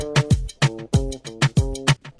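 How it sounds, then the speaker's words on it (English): Punchy kick drum in a shatta remix beat, hitting in a steady pulse with deep low thumps, layered with bright percussive hits and a tonal synth line, loud and upfront with no voices. "the normal kick, let's see, it sounds like this."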